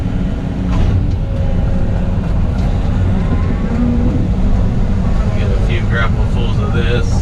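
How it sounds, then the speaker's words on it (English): Heavy trucks rumble past on a roadside beside a ditch, a steady loud low-pitched drone that fills the whole stretch, with faint voices mixed in underneath. "Why are all the trucks coming by?"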